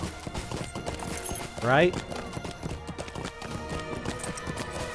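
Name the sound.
horse hooves in video game LOTRO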